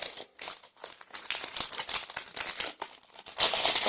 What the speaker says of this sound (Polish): Folia ściągnięta.